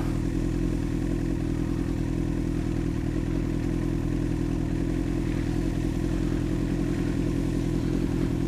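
A motorcycle ridden through snow in second gear with the clutch barely out gives a constant, loud low engine drone and clatter, steady with no revving or talk.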